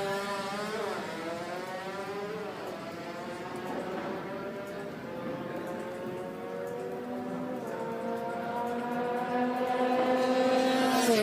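A drag race car, the LFN 969 Techno Tuner from Indonesia, on its first run at an ASEAN drag racing event, its engine note sweeping up through rising harmonics with gear-change dips, loud and steady throughout with no talk.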